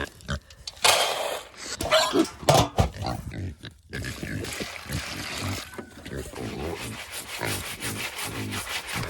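Several pigs grunt and snort at feeding time on a homestead, close by, in irregular bursts mixed with rustling and knocking, with occasional human voices in between.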